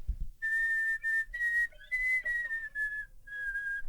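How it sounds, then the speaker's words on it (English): Flute whistle tones: thin, pure sustained high pitches played as a short series of held notes with brief gaps, some sliding slightly between pitches, close and clear with no talking. "So I probably start with whistle tones."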